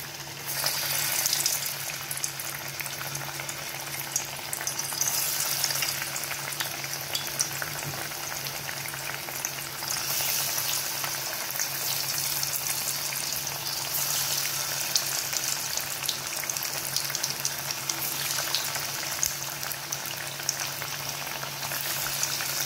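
Bhaji fritters frying in hot oil in a kadhai, a steady dense sizzle and bubbling that runs continuously at close range with no talk.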